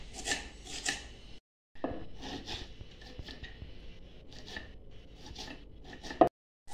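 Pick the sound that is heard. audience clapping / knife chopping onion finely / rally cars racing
knife chopping onion finely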